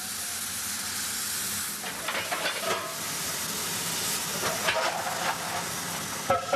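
Steam hisses from an old locomotive of about thirty years, a steady broadband rush that holds throughout with brief louder bursts and clanks near the end.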